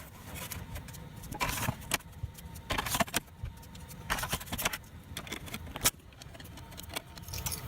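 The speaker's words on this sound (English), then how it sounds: "And now I'll put the drive bays back in." Plastic drive bays slid back into a Synology DS918+ NAS: several short clicking, scraping insertions in separate bursts with quiet pauses between them, close and soft.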